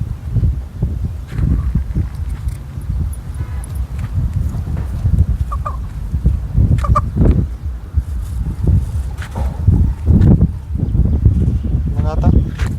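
A laying hen clucking and calling nearby, rhythmic low clucks with a few higher squawks, mixed with bursts of loud voices talking over it outdoors.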